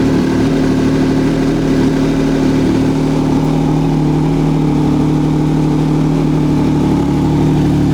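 A Yamaha MT-09 (FZ-09) motorcycle engine idles steadily up close, a loud, even mechanical drone with a constant throb and no voices.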